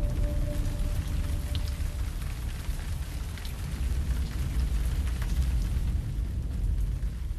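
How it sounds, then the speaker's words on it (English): Monsoon rain showers falling steadily after a spell of intense heat, a dense continuous hiss of rain on surfaces with a low rumbling body, loud and close, no voices. "Eventually, the sweltering heat gives way to the monsoon showers."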